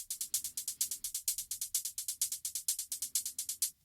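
Short kick drum hits on an OP-XY with a sidechain volume ramp, a fast steady run of faint percussive thumps in a pumping rhythm, each hit rising from quiet to full before cutting off.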